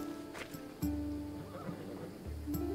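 Horse in Assassin's Creed Odyssey neighing, a couple of clear whinnies close by with soft hoof clops and snorts between them, fairly quiet.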